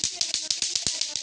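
Indonesian scout clapping rhythm (tepuk pramuka): a quick run of about nine crisp, evenly spaced claps, close and fairly loud, with no talking.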